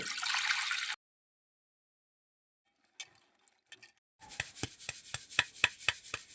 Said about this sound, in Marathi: आता आपण मिरची धुवून घेऊ